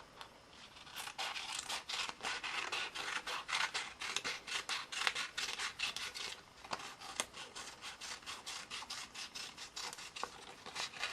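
Scissors snipping through paper while a small snail shape drawn freehand in pencil is cut out, a close, steady run of short crisp cuts and rustles with no talking.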